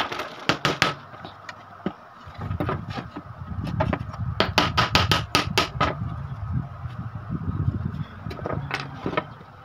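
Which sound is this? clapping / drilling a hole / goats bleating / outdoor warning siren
drilling a hole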